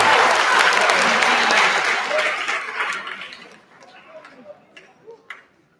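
Audience applause at a school 8th grade promotion ceremony, a dense sustained clapping crowd that is loud at first, then thins out into scattered claps and a few chuckles before fading.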